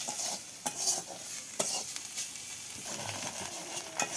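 Salt, turmeric, chili powder and mixed spices sizzle in a pan for a spinach curry, with steady frying hiss and a few light scrapes and clinks of a stirring spoon, close and without talk.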